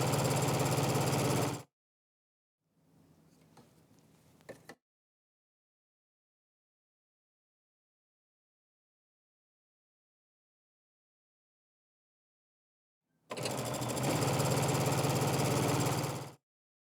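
A sewing machine runs in two steady bursts while stitching cotton quilt squares right sides together for a nine-patch block, with a quieter stretch of fabric handling between them and long silence in the middle.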